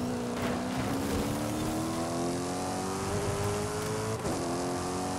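A race car engine in an online racing video game holds a steady, loud drone whose pitch climbs slowly as the car accelerates, with a brief dip near the end and no talking.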